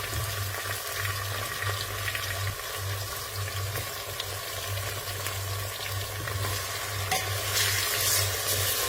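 Ivy gourd (tendli) stirring and frying in a pan for Maharashtrian masale bhaat, a continuous close sizzle with scraping stir strokes throughout and a steady low hum underneath.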